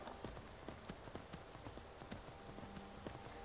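Horse hooves clip-clop steadily at a walking pace in the Skyrim video game, close and moderately loud, with faint background ambience and no talking.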